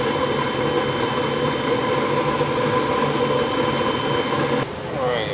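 A two-year-old 80 plus gas furnace runs steadily after firing up, an even broadband roar with a low hum, and the sound drops slightly near the end.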